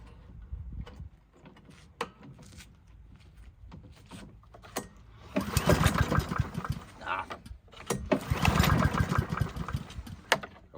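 A free Honda lawn mower engine on choke is pulled over and starts. There are a few cranking ticks, then the engine fires into loud, sputtering bursts of running close by.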